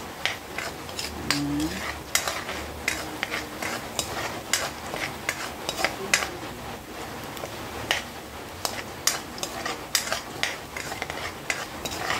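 Onions fry in a pan after browned garlic for a simple mung bean dish, with a soft steady sizzle under frequent rhythmic scrapes and clicks of a utensil stirring against the pan.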